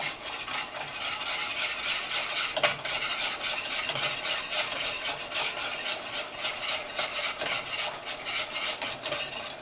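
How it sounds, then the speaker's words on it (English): A spoon stirs grits in a pot, a steady, close scraping and rubbing that continues without a break. "you just want to stir this while you're putting your grits in"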